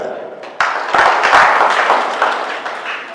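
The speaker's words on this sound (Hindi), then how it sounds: "आप सबने ताली बजा के मुझे आशीर्वाद दिया" Audience at a political rally clapping, a dense burst of applause that swells after a sudden start and keeps going steadily, fairly close and loud, with a voice mixed in.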